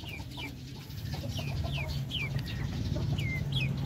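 Native chickens with chicks, including Darag, Paraoakan and Zampen breeds, giving repeated short peeping and clucking calls at close range over a low steady hum of farm background noise.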